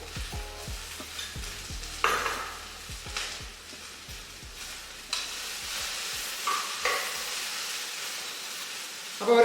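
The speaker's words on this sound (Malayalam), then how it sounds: "അപ്പോൾ 1 ടീസ്പൂൺ ഉപ്പിട്ട് കൊടുത്ത് നമ്മൾ ചെറുതായിട്ടൊന്ന് ഇളക്കി കൊടുത്തിട്ടുണ്ട്" A spoon stirs chopped jackfruit thoran seasoned with a teaspoon of salt in a pan, giving a string of close scraping strokes over a soft, steady sizzle.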